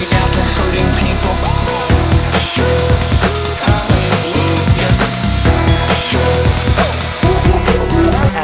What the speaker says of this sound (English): Then I took a round over bit and just went around the whole outside and the inside of the hole.